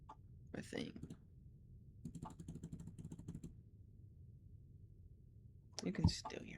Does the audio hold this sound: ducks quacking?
no